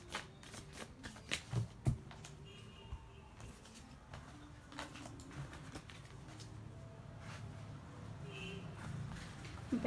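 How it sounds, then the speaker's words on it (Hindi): Tarot cards being arranged and shuffled by hand, giving a run of soft papery riffles and sharp flicks, with the densest bursts in the first two seconds and quieter rustling after, close and without talk. "पहले कार्ड अरेंज कर लेती हूँ।"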